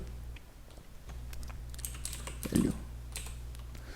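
Keys tapped on a computer keyboard, ending with the Enter key pressed: a few soft, close clicks over a faint background hum, with one slightly louder press near the end.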